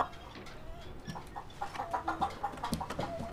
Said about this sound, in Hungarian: Csirke.